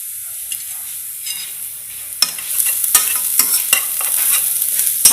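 Garlic and onion frying in oil as they're stirred until brown, with a steady sizzle and repeated sharp scrapes and clacks of a utensil against the pan, close up and alone.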